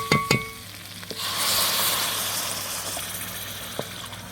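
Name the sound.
broth added to frying liver and potato curry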